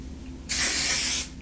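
Hair spray from an aerosol can misted over the back of heatless curls in fine, straight hair: a single steady hiss lasting about three quarters of a second, close and loud, then cut off.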